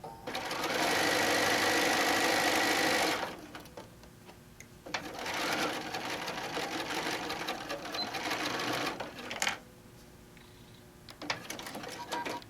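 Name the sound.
sewing machine stitching a quilted pouch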